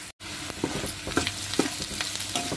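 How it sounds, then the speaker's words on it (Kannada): Onions sizzle in hot oil for a spice tempering for a festive chickpea and brinjal palya, with a steady crackling hiss and a few sharper spatters and stirring scrapes close by. "ನೋಡಿ ಸೌಂಡಲ್ಲೇ ಗೊತ್ತಾಗುತ್ತೆ ಚೆನ್ನಾಗಾಗಿದೆ ಒಗ್ಗರಣೆ"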